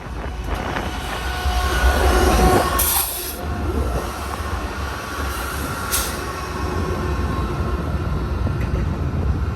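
A long freight train rumbles past continuously and loudly at Verdemont, its wagons clattering over the rails with occasional brief wheel squeals.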